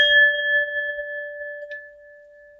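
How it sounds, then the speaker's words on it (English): A singing bowl struck once, ringing with a clear sustained metallic tone and steady overtones that slowly fade, close and alone with no talking. "sometimes I will ring my bell, my singing bowl, to clear the energy"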